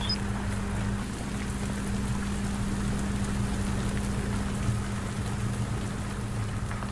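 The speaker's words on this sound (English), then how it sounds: "is this supposed to be raining on the inside?" Steady rain falling indoors inside a video game, a dense even patter with a low constant hum beneath it, continuous throughout.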